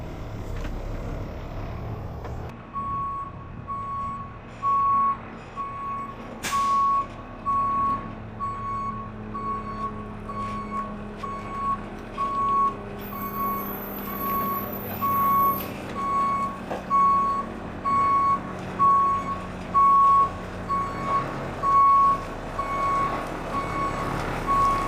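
A truck reverses with a steady run of evenly spaced high reversing beeps over a low engine idle. The beeps keep going for the whole stretch, with a brief hiss partway through.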